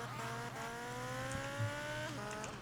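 A motorcycle in GTA Vice City revs and drones with a steady, sustained engine tone that shifts pitch a few times, heard fairly faint and alone.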